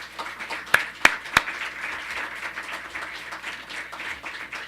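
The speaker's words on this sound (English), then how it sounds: "would you please stand and have everyone applaud you" Audience applause in a meeting room, starting with three sharp close claps, then settling into a steady, moderate wash of clapping from a crowd.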